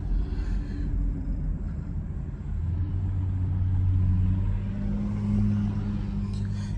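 A passing Acura NSX on the road, a steady low engine rumble that swells and peaks midway, fairly close, with no talk over it.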